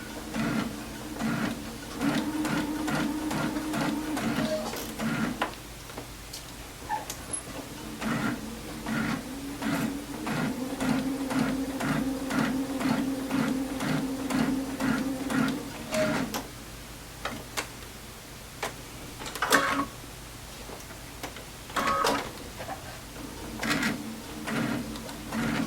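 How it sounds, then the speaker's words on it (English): A sewing machine stitches winter quilt pieces, its needle running in steady rapid bursts of ticking stitches that pause and restart, moderately close with no talking. "So while we're sewing this"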